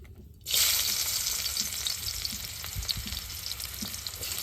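Onion hits hot mustard oil in a wok with a sudden loud hiss after a brief quiet start, then settles into a dense, continuous close sizzle with no talking.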